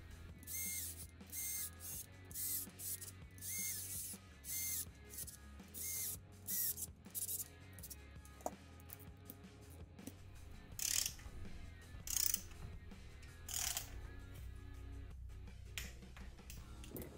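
Torque wrench tightening ADA cylinder head bolts on a Yamaha 701cc two-stroke standup jetski engine: a series of short metallic clicks and ratcheting bursts at irregular intervals, close and fairly quiet, with handling noise between.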